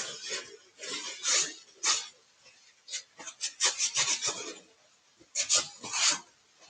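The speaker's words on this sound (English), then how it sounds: "I'm going to wipe it back again." Wax is wiped and rubbed off a painted wooden box table in irregular bursts of close, dry scrubbing with short pauses between them.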